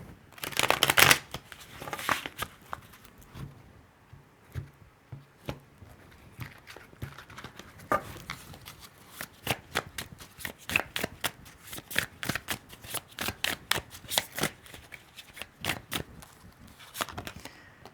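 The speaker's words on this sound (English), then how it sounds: "pull you a preview card" Tarot cards being shuffled by hand in quick, crisp riffling bursts, near and fairly quiet, running in uneven clusters with short pauses between.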